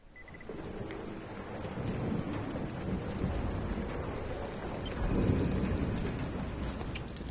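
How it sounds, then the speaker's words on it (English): Steady rain pours throughout in the video game Dying Light, with low rumbling thunder swelling beneath it and a louder roll partway through. "Raining, like always."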